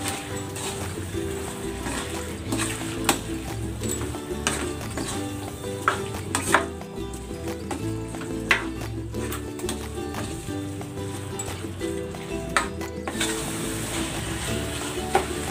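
Shrimp paste (bagoong alamang) sautéing with homegrown kamyas (bilimbi) in a pan: a steady, close sizzle and fry with scattered stirring clinks and scrapes throughout, no talk.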